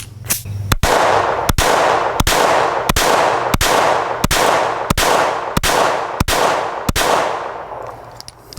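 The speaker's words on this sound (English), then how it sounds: "now we're going to go ahead and shoot the Beretta Model 21A." Small .22 pistols, including a Beretta Model 21A, fire eleven sharp, loud shots one after another at a steady pace of about one shot every two-thirds of a second, each followed by a short ringing decay.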